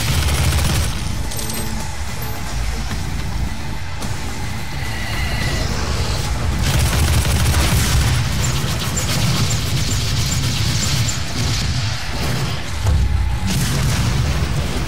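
Chaotic firefight in the shooter game Doom, with dense booming explosions and rapid weapon fire from grenades and a rocket launcher, loud and continuous throughout with layered crashes and bursts.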